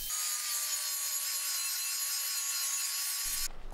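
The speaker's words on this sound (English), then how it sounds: "I started sanding and grinding it to get that sort of black patina off of it and get it down to a nice silver" Power sanding and grinding on an old metal bed frame to strip black patina down to bare silver: a loud, steady, high-pitched whine and rasp held constant, then cut off abruptly at the end.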